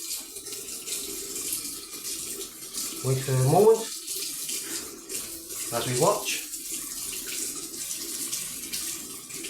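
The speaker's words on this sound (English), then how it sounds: "Just turn the water, cold water on." Cold water runs from a kitchen sink tap in a steady, close splash, and a voice speaks briefly over the flow.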